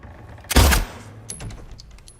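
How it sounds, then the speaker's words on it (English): A single gunshot in the Silent Hill 2 remake, a loud sharp blast with a short booming tail, followed by faint clicks and low ambient game sounds. "Did they respond to the gunshot?"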